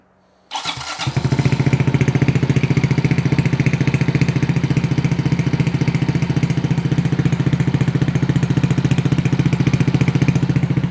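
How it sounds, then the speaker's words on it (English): A Honda Dax 125 fitted with a Yoshimura Cyclone exhaust cranks briefly and fires up for the first time, then settles into a steady, close, throbbing idle. "let's fire it up for the first time"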